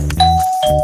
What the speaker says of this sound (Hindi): चलो घंटी बजाओ।